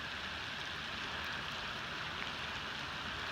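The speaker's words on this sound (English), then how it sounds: "Hopefully the rain will slow down just enough and won't allow it to get much higher than this." Heavy rain from Hurricane Harvey floods Braeswood Place, a dense, even hiss of downpour that holds steady and close with no other sounds.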